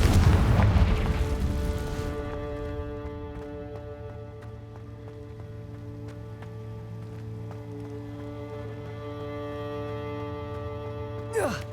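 A Confringo fire blast spell detonates in Hogwarts Legacy, a loud booming explosion at the start that decays into a long ringing, sustained tonal hum, with a brief sharp burst near the end.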